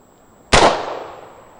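A single sharp, loud rifle shot from a Patriot ISU upper chambered in 5.56 firing ammunition at about 2,900 feet per second outdoors, a crisp crack followed by a long, fading rumble; no talking.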